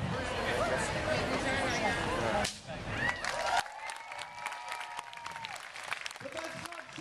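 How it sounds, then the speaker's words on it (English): Street crowd at a busker show applauds a volunteer during a spaghetti act, a loud burst of clapping that drops off sharply after about two and a half seconds, followed by quieter scattered street noise and a few sharp cracks. "everyone, huge round of applause for Robbie."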